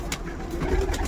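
Teddy pigeons cooing at close range, a low throaty coo rising and falling over about a second with faint background rustle.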